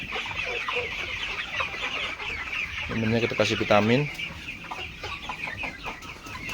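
Free-range village chickens on a small poultry farm cluck nearby in a burst of rhythmic calls, with someone speaking throughout.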